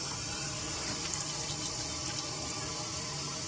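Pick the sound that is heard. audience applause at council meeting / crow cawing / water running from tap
water running from tap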